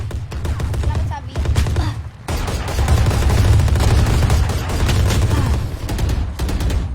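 Rapid automatic gunfire in the Valorant video game, dense bursts of shots rattling continuously with a short gap, loud and close, mixed with some voices.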